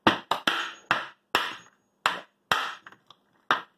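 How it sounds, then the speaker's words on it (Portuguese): Hammer blows struck upward from underneath an office swivel chair to free its gas piston column, about ten sharp, close knocks in an uneven rhythm, each ringing briefly before silence. "E martela ali embaixo,"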